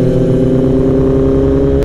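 A loud 2015 ZX10R motorcycle with an aftermarket Kaibo exhaust drones at a steady high idle, its deep exhaust note humming continuously up close.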